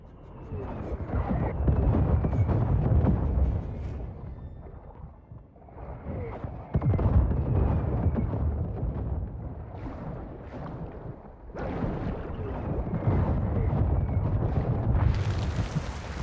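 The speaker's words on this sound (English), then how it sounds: "Mortar strike inbound now." Mortar strike explosions in Call of Duty: Modern Warfare II land as heavy, rumbling booms one after another, separated by brief dips and mixed with windy game noise.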